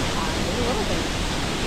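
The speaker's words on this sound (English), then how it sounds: "Salto Chico. Really beautiful. It's a smaller waterfall." Salto Chico, a smaller waterfall at Iguazú Falls in Argentina, a dense steady roar of falling water filling the clip, close and constant, with faint voices beneath.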